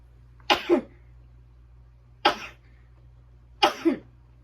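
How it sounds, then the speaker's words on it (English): Three sharp sneezes, each a quick two-part burst, spaced a second or so apart, close and fairly loud against a quiet background hum. "Oh Lord, I have to sneeze."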